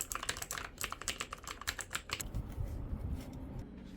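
Rapid mechanical keyboard typing, after cleaning, clatters in quick, uneven keystrokes for about two seconds, close up, with a rounder, softer tone, then gives way to a low rustle.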